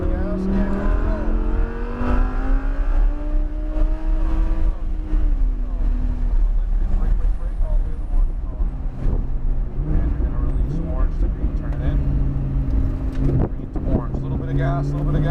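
A silver Ferrari accelerates on a track, its engine note rising and shifting under a steady rush of wind, while a man keeps up constant talk over it.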